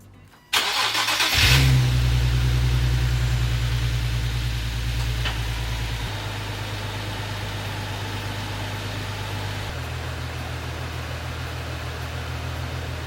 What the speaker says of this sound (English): so now we are ready to turn on the car and check for leaks